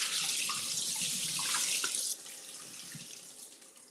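Kitchen tap running hard into a pot while rice is rinsed, a loud steady rush of water close by that drops to a softer flow partway through.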